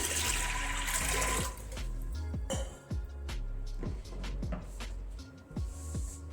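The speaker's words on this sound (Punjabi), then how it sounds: "1 ਲੀਟਰ ਮੈਂ ਪਾਣੀ ਪਾ ਦਾਂਗੀ" Water poured into a pressure cooker holding soaked white chickpeas, a continuous splashing pour at first, then irregular clinks and knocks of the cooker and utensils.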